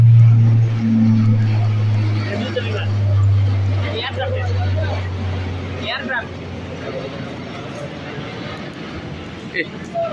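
Dense traffic jam on a road in Dhaka near the airport, with a steady low engine rumble of idling cars and buses filling the scene, a low-flying plane overhead, and people talking throughout.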